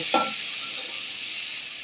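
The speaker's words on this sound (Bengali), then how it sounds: "তো আলুটা ভেজে নিচ্ছি এখন আমি" Potatoes sizzle steadily in a hot pan, a continuous bright frying hiss with a brief stirring scrape at the start.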